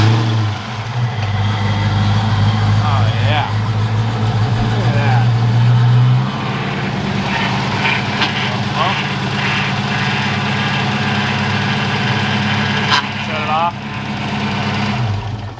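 A Foxbody Mustang engine runs steadily with a low drone, a power steering pump whining over it while people talk nearby; the engine note drops slightly partway through.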